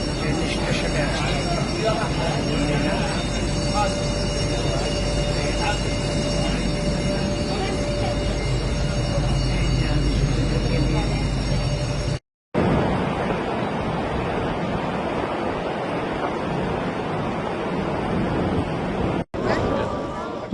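A train carrying Hajj pilgrims rolls into a railway station with a steady rumble of wheels and carriages, a faint tonal squeal riding over the roar, and voices talking in the background.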